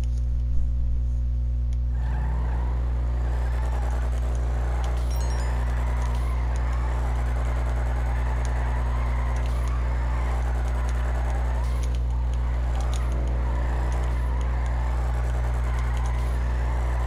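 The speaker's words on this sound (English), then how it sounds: "This one has a decent amount of power and it just holds its drift for the most part." A car drifting in the GTA 5 video game on low-grip tires, a steady droning engine held at high revs for the whole stretch, with a faint tire hiss and no clear talk.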